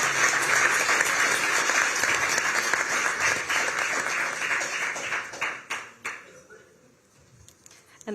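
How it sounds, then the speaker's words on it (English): A crowd at the NATO Youth Summit in Budva, Montenegro applauds the panelists, dense clapping that holds steady and then thins to a few scattered claps before fading out. "If we could all just give a round of applause to the panelists for their time and contributions."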